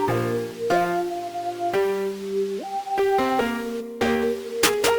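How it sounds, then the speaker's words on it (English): A synth sine lead layered with noise steps through sustained root notes beneath a melody, each note held with clean harmonics and sliding changes, loud and alone with no voices. "it's basically just a sine lead with some noise that follows root notes of the melody"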